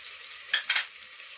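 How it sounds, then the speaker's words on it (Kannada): Sliced onions frying with kasuri methi in a pan give a steady faint hiss, broken by two short, close scrapes of stirring. "ಈರುಳ್ಳಿ ಸ್ವಲ್ಪ ಚೆನ್ನಾಗಿ ಫ್ರೈ ಆಗಲಿ."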